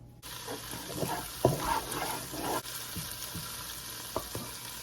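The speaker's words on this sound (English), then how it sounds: "I added a tablespoon of butter to melt. I'm gonna add about a teaspoon of garlic, chopped garlic." Chopped garlic sizzles in melted butter in a single pot, a steady close crackling hiss with a few soft clinks and a brief louder pop partway through.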